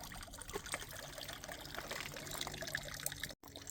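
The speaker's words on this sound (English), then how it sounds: "And spring water actually runs from this." Spring water trickles from the Four Seasons fountain in the gardens at Stowe, a faint, continuous babbling dribble heard up close without talk.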